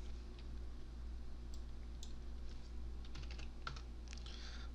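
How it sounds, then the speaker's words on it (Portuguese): Faint, quick keyboard clicks sit over a steady low electrical hum while someone types code at a computer, with scattered taps growing busier toward the end. "Vamos digitar."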